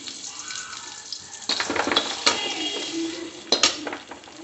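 Onions browning in a hot kadhai, with a hissing sizzle and a few sharp clanks of a ladle stirring against the metal, close and loud.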